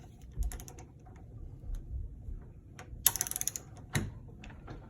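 An AAC torque tool set to 20 foot-pounds tightens a flash hider, giving off a quick run of small close ratcheting clicks amid faint handling noises.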